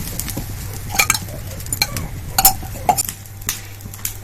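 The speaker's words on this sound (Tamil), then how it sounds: "தோசை ஊற்றலாம்." Fermented dosa batter is poured onto a hot pan: soft scraping and scattered metallic clinks over a faint, steady sizzle, with no talking.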